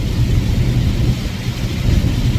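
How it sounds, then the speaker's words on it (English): Rain hits a car driving in Wisconsin as a loud, constant wash of noise, mixed with low road rumble throughout and no pauses. "We got rain."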